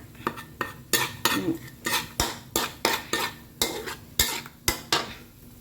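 Bamboo shoots are stir-fried with soup stock in a pot, a spatula scraping and knocking against the metal in a steady rhythm of about a dozen close, distinct strokes with no voices.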